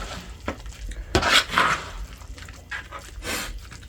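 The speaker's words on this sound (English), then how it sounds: "So we're gonna mix this up together. Give it a good mix." Ingredients for lemon pepper chicken being mixed together in a bowl, heard as a few close, irregular clinks, scrapes and knocks of utensil against the bowl, with brief wet stirring noises between them.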